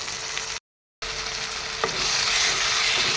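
Tomatoes and peas frying in a pan, stirred with a spoon: a steady close sizzle with a brief scrape or two, cut by a short gap of silence, then growing slightly louder.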